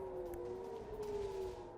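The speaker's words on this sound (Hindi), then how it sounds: "उत्तरी इजराइल में रात भर सायरन बजते रहे" Air raid sirens in northern Israel wail as a faint, distant steady tone held across the whole stretch, with no other sounds over it.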